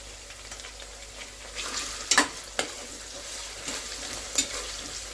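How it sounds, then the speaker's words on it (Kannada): Onions frying over a medium flame in a pan for chicken biryani, with turmeric powder added; a steady sizzle runs throughout, broken by a few sharp scraping stirs of a spoon against the pan. "ಇದು ಲೈಟ್ ಬ್ರೌನ್ ಬರೋವರೆಗೂ ಮೀಡಿಯಂ ಫ್ಲೇಮಲ್ಲೇ ಫ್ರೈ ಮಾಡ್ಕೊಳ್ಳಿ."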